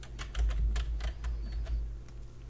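A computer keyboard is used to type a macro name into a spreadsheet, making a quick burst of close, light key clicks over a low background hum.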